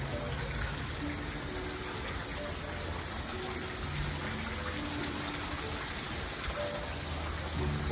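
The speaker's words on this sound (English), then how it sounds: "We've got a flood in the bathroom" A steady, even rush of shower water spraying and flooding across a hotel bathroom floor in Benidorm, continuous and fairly close.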